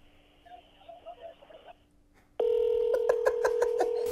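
Telephone line tones as a call is transferred during a prank call to a juice shop: faint murmur, then a sudden loud steady tone overlaid with a quick series of beeps, heard alone.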